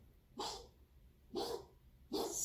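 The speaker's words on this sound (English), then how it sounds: "Sorry, my dog." A dog barks three times indoors, spaced about a second apart, each bark moderately loud and close, with quiet room noise between.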